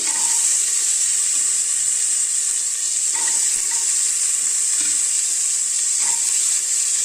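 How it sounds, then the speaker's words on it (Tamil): Beetroot, onion, garlic and curry leaves sautéing in a pan for beetroot soup, giving a steady, even sizzle throughout with a few faint stirring scrapes, close and alone without any talk. "பீட்ரூட் நல்லா கொஞ்சம் நல்லா வதக்கிக்கோங்க"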